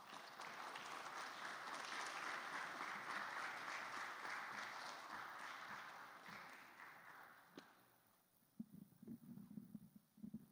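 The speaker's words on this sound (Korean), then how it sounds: "앞으로 나오실 때 큰 박수로 환영해 주시기 바랍니다." A church congregation claps loudly and steadily for several seconds to welcome a visiting choir group from Madras Christian College, then the applause fades into scattered taps and a few spoken words.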